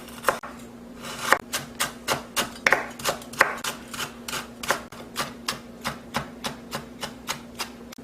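A knife mincing garlic on a cutting board in quick, regular chops, close and crisp, keeping a steady rhythm for the whole stretch.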